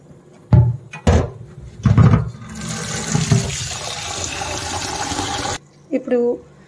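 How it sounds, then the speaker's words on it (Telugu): Rice is washed in water in a kitchen while making spinach rice. A few short knocks and clunks at the start lead into several seconds of steady rushing, sloshing water. The water stops abruptly, then a couple of faint clatters follow. "సో ఇప్పుడైతే బియ్యం కడిగేసుకున్నాం."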